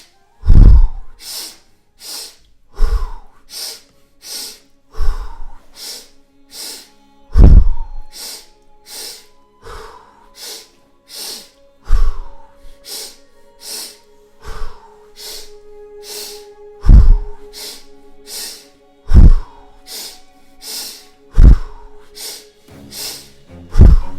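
Deep sniffing inhalations and breathy exhales repeat in a steady cycle during a guided breathing exercise, loud and close to the microphone, with no speech.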